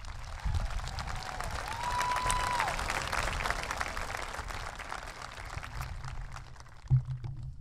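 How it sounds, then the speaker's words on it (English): A crowd applauds an honored student at a high school graduation ceremony, with moderately loud, steady clapping that fills the hall for several seconds and a brief thump near the end. "Let's give him a huge round of applause."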